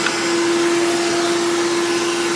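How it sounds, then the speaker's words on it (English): A shop vac carpet extractor with water injection runs, its vacuum motor roaring steadily and loudly up close with a constant hum, no pauses or talk throughout. "extract all this using the water injection and the extraction from the vacuum"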